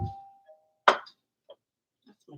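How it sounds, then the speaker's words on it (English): A home doorbell sounds once in a kitchen during cooking: a sustained tone first, then a single sharp chime strike, with faint clinks afterward. "That's my doorbell. I'm not answering that."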